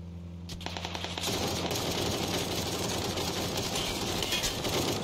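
Rapid automatic gunfire in a video game starts after a brief hum and then rattles on continuously, loud and close, with no talk over it.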